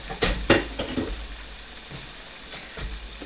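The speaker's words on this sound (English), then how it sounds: "There's still some grease in there, so I'm just going to add in some eggs." Eggs frying in leftover grease in a pan give a soft sizzle with a few scraping stir clatters near the start and another near the end.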